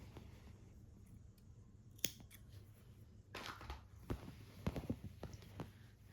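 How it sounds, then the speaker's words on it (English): Scissors cut a crochet yarn tail, making a few faint, sharp snips close by in a quiet room. "we can just cut the tail off"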